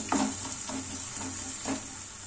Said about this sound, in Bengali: পেঁয়াজটা খুব ভালো করে ভেজে নিলাম